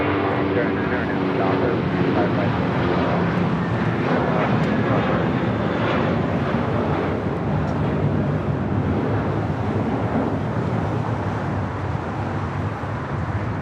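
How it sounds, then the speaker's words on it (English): An American Airlines A321 bound for Dallas Fort Worth takes off at LAX, its engines a loud, continuous roar filling the scene, with voices faintly in the mix. "American Airlines 2543 taking off to Dallas Fort Worth on an A321"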